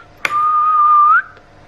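A single sustained whistled note, loud and close, holding steady for about a second before rising slightly and stopping abruptly.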